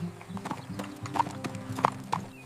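Hooves of a ridden horse clip-clop at a walk on the way home on a horse farm, a steady uneven patter of close knocks with a few sharper louder strikes, no talking over it.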